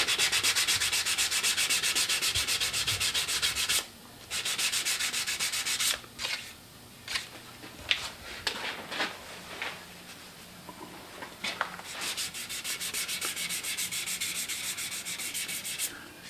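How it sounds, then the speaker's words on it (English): Rhythmic rasping of 180-grit sandpaper rubbed over a wooden ornament base, close up, in repeated strokes broken by a few short pauses and light taps. "just sand the radial scratches out of it."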